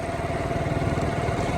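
A motorbike being ridden, its engine giving a steady, continuous drone with a faint clattering texture throughout.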